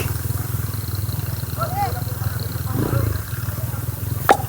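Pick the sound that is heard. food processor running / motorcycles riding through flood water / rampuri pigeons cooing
motorcycles riding through flood water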